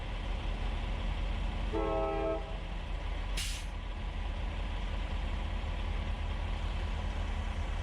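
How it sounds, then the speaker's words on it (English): A train rumbles steadily with a brief horn blast partway through and a short hiss of air, the low drone continuing evenly throughout. "The world's slowest train."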